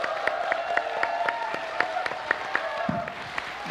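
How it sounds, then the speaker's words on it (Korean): An audience at a talk-concert launch event in Gwangju applauds a lawmaker. The clapping is evenly paced and rhythmic, with sharp, regular claps over a steady tonal background and a low crowd murmur. "박수 한번 쳐주세요"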